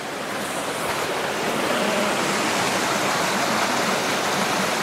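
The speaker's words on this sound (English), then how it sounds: "we're by the Little Carp River" The Little Carp River in the Porcupine Mountains of Michigan rushes in a steady, loud wash of flowing water heard up close beside the bank, continuous with no pauses.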